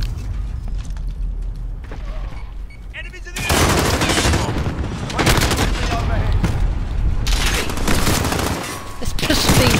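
Pistol gunfire in a first-person shooter video game, the loud game sound mix dense with repeated shots and mechanical clatter, heard with some talk mixed in.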